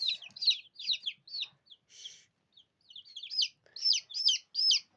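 Young chicks being handled, calling out in quick bursts of shrill, rising peeps, loud and close, with short pauses between rapid clusters of calls.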